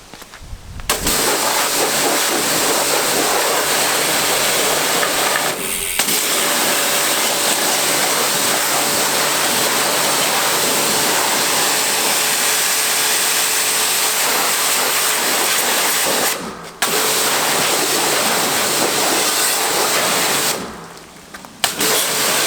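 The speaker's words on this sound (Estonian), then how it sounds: "ja siis võibki veega puhtaks lasta." Water sprays steadily to rinse a bicycle clean after a detergent soak, a loud continuous hissing rush that breaks off briefly a few times.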